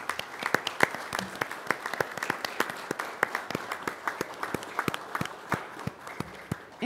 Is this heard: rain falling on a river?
no